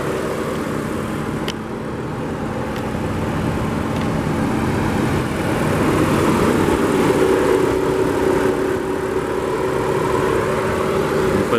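The inline six-cylinder engine of a 2015 BMW X3 xDrive35i M-Sport runs at a steady idle, a constant low droning rumble heard close and alone, swelling slightly toward the end.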